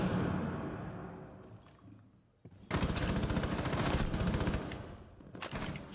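Sustained automatic gunfire from the Rainbow Six Siege video game, a fading noisy burst at first, then after a short lull a dense, loud, continuous spray of rapid shots lasting several seconds, with one more burst at the end.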